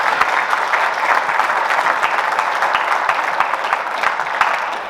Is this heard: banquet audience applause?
yes